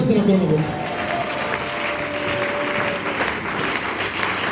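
A church congregation at a worship service applauding to acclaim Jesus, dense sustained clapping from a crowd filling the room, loud and steady, with voices and faint tones beneath.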